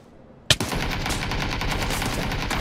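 Automatic gunfire in the online battle royale game PUBG, a sudden sharp shot followed by sustained, dense rapid fire that fills the rest of the moment at steady loudness with no talk.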